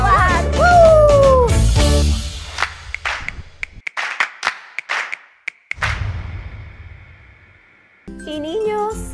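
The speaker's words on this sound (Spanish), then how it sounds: "Todos aplaudiendo aquí, todos aplaudiendo allá. Aplaudo, aplaudo, aplaudo" Young children in an early-childhood class clap along to a Spanish-language clapping song: a sung melody opens, then a run of sharp, evenly spaced hand claps, with singing returning at the close.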